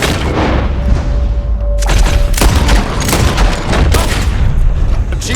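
Gunfire at birds in Red Dead Redemption 2, with loud repeated booming shots bursting over a dense, constant game soundscape.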